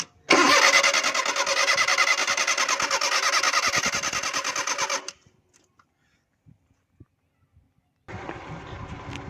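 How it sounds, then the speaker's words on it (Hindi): A CNG car with a faulty CNG switch is cranked until its engine catches and runs loudly for a few seconds, then cuts out to near silence before another cranking burst starts. "सबसे पहले दोस्तों इसको स्टार्ट करेंगे गाड़ी को।"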